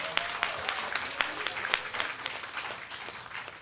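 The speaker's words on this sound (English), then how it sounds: "give ourselves a big round of applause" An audience at an Asia CEO business event in Cebu breaks into applause, a moderately distant, sustained patter of many hands clapping with scattered sharper claps standing out early on.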